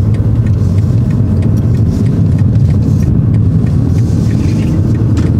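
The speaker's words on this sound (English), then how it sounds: "Just accelerate a bit more now if it's clear." Car engine rumbling and pulling steadily as it accelerates during a driving lesson, a continuous loud, low drone of road and engine noise with no break, no talk over it.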